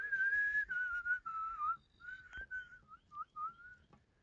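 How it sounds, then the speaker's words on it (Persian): On a mountainside, birds called tarqeh whistle in a clear, fairly faint series of sustained and short warbling notes with brief pauses between phrases, and no one speaks. "ترقه ها سوت میزنن. بلبل نیست و ترقه."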